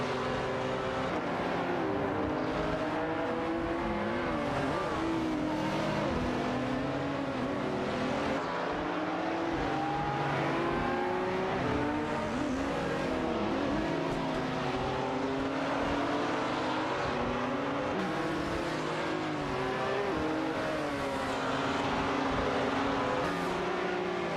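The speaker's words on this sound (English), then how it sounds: "We've got some intense race car action going on" Race cars in a racing video game, with continuous engine and tire noise from several cars, steady and moderately loud, and no talking.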